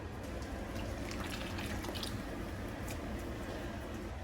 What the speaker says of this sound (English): So I'm gonna put this coconut milk in there now.